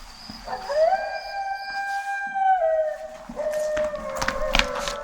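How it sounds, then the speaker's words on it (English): Coyotes howl at a full moon in long, rising and falling wails, several voices overlapping, then a burst of yips and short cries near the end, with crickets at night. "Coyotes howling at a full moon."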